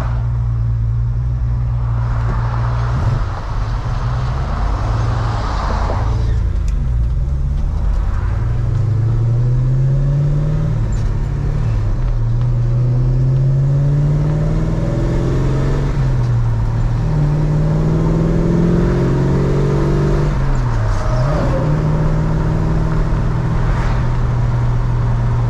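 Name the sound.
1966 Chevrolet Chevelle SS engine driving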